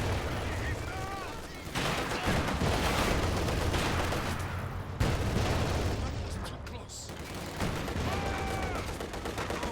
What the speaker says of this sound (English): Those anti-tank guns are not good.